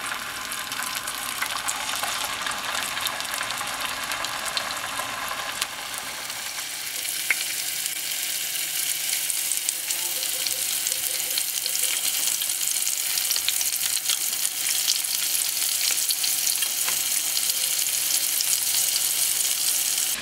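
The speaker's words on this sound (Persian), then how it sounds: "بعد 2 ساعت که بالو کتفامون حسابی مزه دار شدن، یه طرفشون رو میذاریم تا حسابی سرخ بشن" Chicken wings and shoulders, marinated for two hours, fry in a pan with a steady, loud sizzle that runs continuously for the whole stretch, brightening after a few seconds; no voices.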